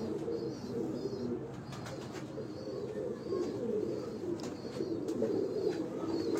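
Pigeons coo steadily in a rooftop loft in Lahore, a continuous overlapping chorus of low throaty calls, fairly close, with a few faint higher chirps above.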